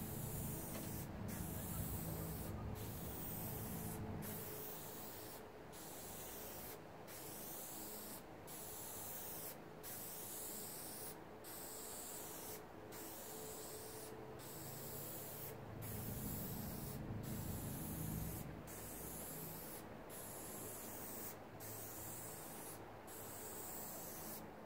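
Spray varnish hisses onto an acrylic painting in a long series of short, regular bursts laid down in lines, each spurt close and sharp, with faint rustling between them.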